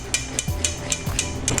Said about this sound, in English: I'm just going to whisk this together.